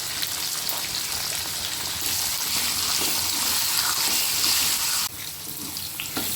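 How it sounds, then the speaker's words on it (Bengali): Pointed gourd (potol) sizzles loudly and steadily in hot oil with turmeric and salt. The sputter drops a little in level near the end. "এর মধ্যে পটলটা ভেজে নেব।"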